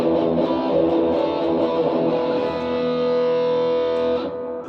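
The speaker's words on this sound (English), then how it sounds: "X100 distortion" Guitar played through an MXR Rockman X100 distortion unit: one thick, saturated chord rings steadily for about four seconds, then cuts off, heard alone.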